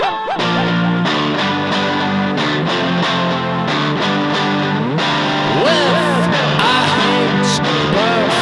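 Electric guitar run through an echo effect in a garage-psych jam, loud and distorted, with repeating chords and echoing trails throughout.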